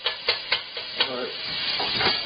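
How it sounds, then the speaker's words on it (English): Meat searing in a pan for homestyle pasta sauce, a soft sizzle under a few sharp clacks and scrapes of a utensil stirring, then a steady low hiss, quiet and close. "Sear that meat up."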